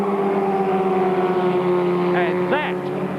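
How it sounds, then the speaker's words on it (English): Formula Ford 1600 race cars at speed down the Hangar Straight at Silverstone, a steady high-pitched engine drone in top gear with a brief Doppler sweep as a car passes, under continuous commentary. "So it's Ratzenberger second, Elliott third, as they go down the Hangar Straight for the 10th and last time, building up to 140 miles an hour in 4th and top gear"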